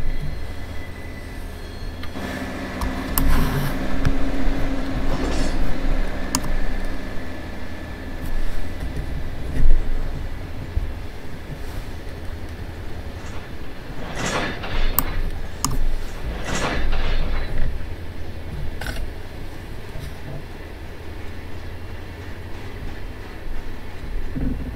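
Train running in a rail yard during switching, with a continuous rumble and rolling clatter, metallic squeals and clanks rising around the middle, loud and close, and no one talking.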